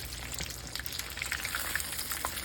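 Thick-cut breaded pork chops for katsu fry in hot oil in a pan, giving a quiet, steady sizzle with small crackles and pops and no talking.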